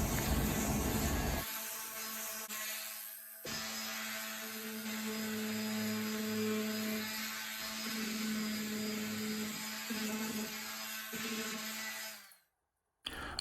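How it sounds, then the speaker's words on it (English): Random orbital sander working on a wooden farmhouse chair part, a steady whirring drone with a clear hum that runs continuously for most of the span, briefly shifting pitch, then cutting off abruptly near the end. "Using my random orbital sander, I'll sand down to the line and round over all four corners."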